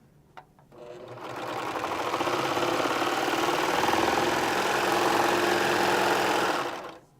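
A Baby Lock Victory sewing machine stitches sweatshirt knit fabric, running in one steady, loud, continuous whir for about six seconds after a brief start click, then stopping.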